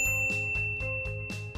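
A notification bell sound effect rings in a quick series of about six bright dings at an even pace, each a clear tinkling strike over a steady tone, with no speech.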